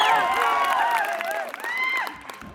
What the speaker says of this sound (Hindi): आप लोग मेरे लिए एक बार जोरदार तालियां मार दें